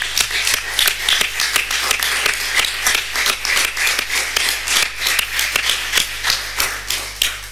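Audience applause following a speech at a European Union session on values and democracy, a dense, steady wash of many hands clapping at close range, sustained throughout with no voices over it.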